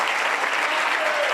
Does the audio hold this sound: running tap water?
no